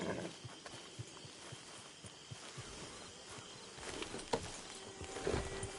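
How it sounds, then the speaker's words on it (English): Horse hooves clip-clop in the video game Red Dead Redemption 2, a steady walking rhythm of soft thuds against buzzing insects, with a few sharper knocks and clatter toward the end. "Get your horse."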